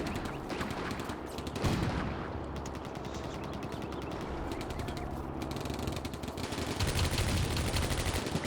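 Gunfire in the WWII video game Combat Mission: Barbarossa to Berlin, as a Panzer II engages T-26 tanks: dense, continuous rattling machine-gun bursts and scattered shots fill the whole stretch at moderate loudness, with no speech.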